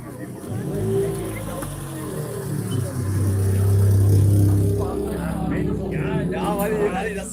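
Old Citroën car engine running and revving at a classic car meet, a steady mid-pitched drone that swells and fades nearby with background crowd chatter and voices over it.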